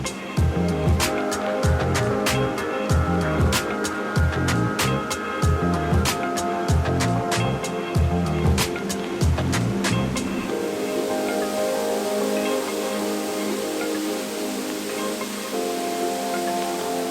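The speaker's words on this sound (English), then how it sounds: "So this is actually an upper part of Cook Creek Falls." Upper Cook Creek Falls on Vancouver Island gives a steady, broadband roar of falling water, continuous and fairly loud. Sharp clicks and knocks cut in over the first ten seconds before the rush carries on alone.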